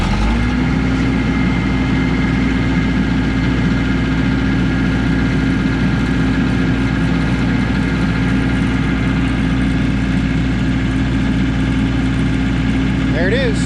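MEP-804A military diesel generator starts up and settles into a steady, even running drone with a constant tonal hum, close and continuous throughout.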